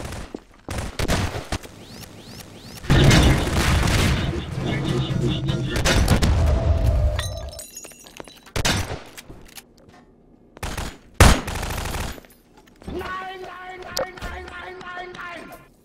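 Gunfire in the Garry's Mod game mode Prop Hunt comes in loud, close bursts of rapid shots and booms, separated by short quieter gaps with scattered single shots and faint in-game sounds.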